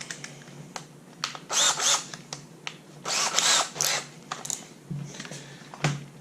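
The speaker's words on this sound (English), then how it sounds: "7/16 inch drill bit." Power drill boring a 7/16 inch hole in metal for an engine build: several loud, rising drilling bursts separated by short pauses, close up with no talk.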